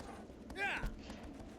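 A horse in the game Shadow of the Colossus gallops with faint, rhythmic hoofbeats, punctuated by a short whinny-like cry, all quiet and under a low background.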